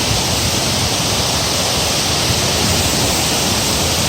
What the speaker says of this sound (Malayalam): ഇതാണ് ഈരാറ്റുമുക്ക് വെള്ളച്ചാട്ടം തുഷാരഗിരിയിൽ